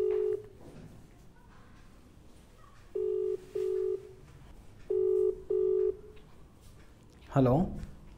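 A phone call is dialed, producing several short steady keypad tones in pairs at a moderate level, followed by a brief rising electronic chirp at the end.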